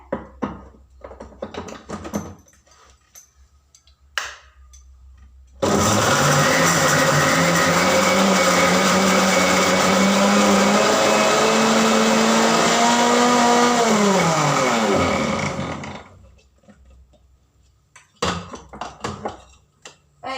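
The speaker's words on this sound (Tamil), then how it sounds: "இந்த மிக்சி ஜாரில் போட்டு நம்ம நல்லா கொஞ்சம் நரபரன்னு அடித்து எடுத்துக்கணும்" An electric mixer grinder blends pirandai in a jar, a loud steady roaring whir that starts abruptly, holds for about ten seconds with a slight pitch shift, then winds down, with quieter clinks and handling sounds before and after.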